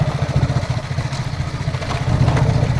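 A motorcycle engine running nearby, a steady low throbbing idle with a regular pulsing beat and a slight rise in level toward the end, fairly loud with no talk.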